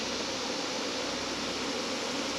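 Honey bees buzz in a dense, steady drone during a mite wash, close and continuous with no pauses.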